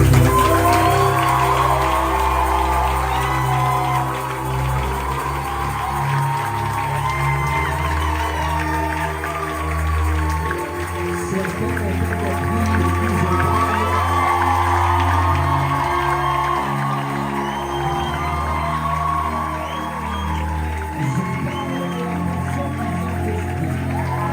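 A large congregation at a Christian gathering cheers and acclaims in a long, dense wash of shouts and applause that stays loud and sustained throughout, with voices mixed into the crowd noise.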